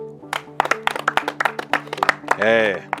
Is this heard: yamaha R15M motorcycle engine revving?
no